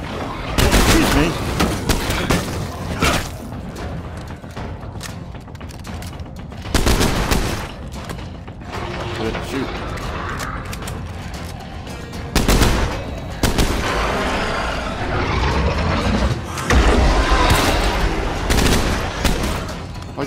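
Rapid bursts of plague gun gunfire in State of Decay 2, loud volleys and repeated shots with booms, mixed with intermittent talk between bursts.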